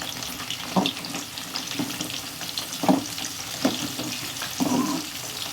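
Drumstick pieces frying in oil for a pickle are stirred steadily with soft scraping strokes over a constant close sizzle, a few louder stir bursts standing out.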